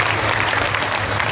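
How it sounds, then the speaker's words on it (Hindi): A crowd at a religious katha gathering applauds loudly for the organizing committee in a brief, dense burst of clapping with no pauses. "एक बार जोरदार ताली बजाएं"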